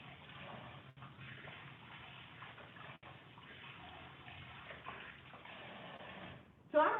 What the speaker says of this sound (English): Gonna wash my hands again.